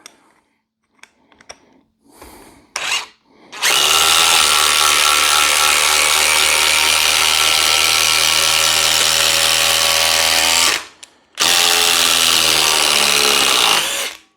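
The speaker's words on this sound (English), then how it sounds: "we're going to run some 3/8 by 8-inch Spax fasteners" A DeWalt 860 impact driver drives 3/8 by 8-inch Spax fasteners into wood, with a few short trigger blips followed by a long, loud, close hammering whir, a brief stop, then another sustained burst.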